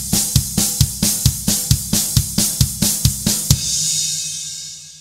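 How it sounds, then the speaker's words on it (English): Fast double bass drum pattern, a run of about a dozen quick even kick hits in a steady rhythm, close and punchy, ending with a ringing decay. "And there's the bass drum tuka tuka,"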